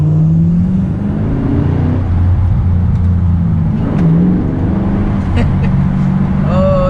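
A car fitted with a cold air intake accelerates hard in second gear. The engine note rises steadily and stays loud and close throughout, with faint speech underneath.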